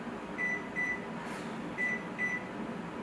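A kitchen oven timer is set while rock cookies bake, giving four short, faint electronic beeps in two pairs over a low background hum.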